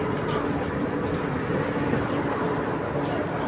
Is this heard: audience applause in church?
no